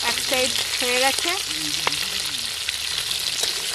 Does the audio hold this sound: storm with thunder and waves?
no